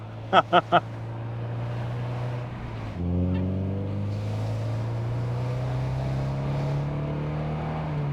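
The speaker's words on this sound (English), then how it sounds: "That 2-liter twin spark, that's doing its job" An Alfa Romeo 75 with a 2.0-litre Twin Spark engine, a restored barn find, hums steadily from inside the car, then its pitch climbs as it accelerates; three short beeps sound at the start.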